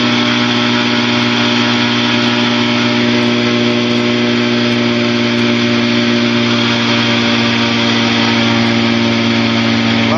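Small training airplane engine in flight, a loud steady drone with a constant hum that fills the whole stretch without a break.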